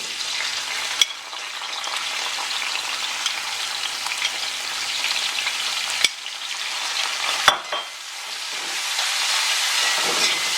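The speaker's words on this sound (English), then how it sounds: "It's now time to add the seasoned shrimp to the pot." Seasoned shrimp frying in hot olive oil in a pot give a steady, close sizzle with a few sharp crackles and pops, continuing without talk.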